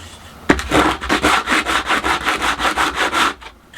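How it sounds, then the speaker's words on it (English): Walnut wood rubbed back and forth on sandpaper to level a drinks coaster, a close, steady series of about a dozen rhythmic scraping strokes with no talk. "Just basically just rubbing that on the sandpaper just to get it down to level."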